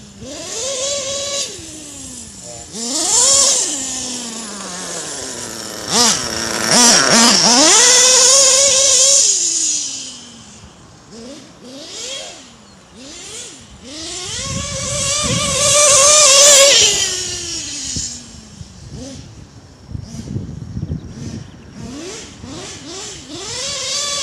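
A modded nitro RC car with an LRP .32 engine, running on grass, revs repeatedly in loud, high-pitched surges that rise and fall, with quieter idling between bursts; nearby and fairly loud.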